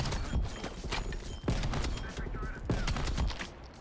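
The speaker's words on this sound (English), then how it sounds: "There's airstrikes all around me." Explosive airstrike blasts and gunfire in the Black Ops Cold War video game, with several loud booming impacts and crackling shots amid dense battle noise, under faint voices.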